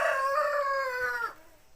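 Free-range village chickens with a rooster crowing once, a single close, loud call held steady for over a second before cutting off into quiet.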